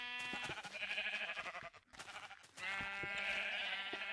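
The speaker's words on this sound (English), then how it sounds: "These sheep are dumb." Sheep bleat in the video game Minecraft, two long wavering calls separated by a brief dip, loud and close with nothing else heard.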